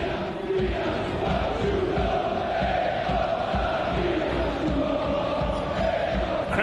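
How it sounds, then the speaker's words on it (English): Football supporters chant at a Milan vs Empoli Serie A match, heard as a dense, rolling crowd roar with rhythmic sung cries carrying steadily across the stadium, fairly distant and continuous. "Cries of Milan faccio un gol, score a goal for us Milan"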